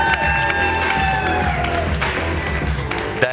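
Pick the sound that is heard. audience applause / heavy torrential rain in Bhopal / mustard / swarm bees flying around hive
audience applause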